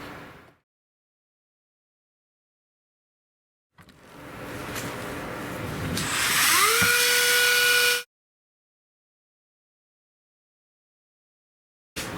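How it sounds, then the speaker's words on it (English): A small power drill bores through a flap on a T-One Euro build while installing formation lights, a rising high whine lasting about four seconds with a steady pitch near the end, then silence. "I'm gonna drill through here and then go from there."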